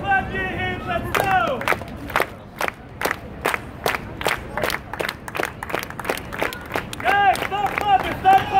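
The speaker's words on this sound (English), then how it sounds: "Everybody clap your hands," A street-show crowd in New York claps hands in loud, rhythmic unison, sharp regular claps close by, with someone shouting over them at the start and end.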